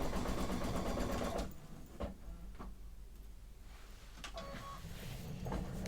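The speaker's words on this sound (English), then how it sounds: "Lower my presser foot, and I'll go ahead and start my embroidery." A home embroidery sewing machine stitches a quilt panel, its steady mechanical hum running loud and close for the first second and a half, then dropping to a quieter whir broken by a few sharp clicks and knocks.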